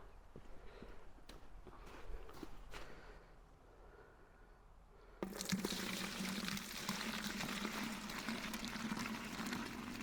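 Melted rendered beeswax poured outdoors: quiet handling noises for about five seconds, then a sudden steady, fairly loud pouring wash that runs to the end with no talking.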